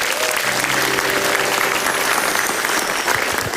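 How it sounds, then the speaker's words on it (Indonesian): A stand-up comedy crowd at a Komika Vaganza show claps steadily and loudly, a dense wash of hands with a faint murmur of voices underneath. "Belum minta tepuk tangannya dulu."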